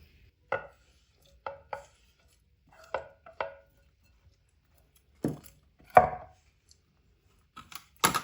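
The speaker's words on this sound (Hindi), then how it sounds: "यहाँ पे एक टमाटर लिया, इसको भी हम वैसे ही काट लेंगे।" A kitchen knife chops a tomato on a board for an egg breakfast dish, giving about nine crisp, separate cuts in an uneven rhythm, some paired close together, with quiet pauses between them.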